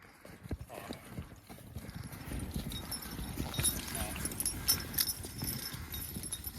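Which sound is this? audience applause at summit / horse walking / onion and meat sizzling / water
horse walking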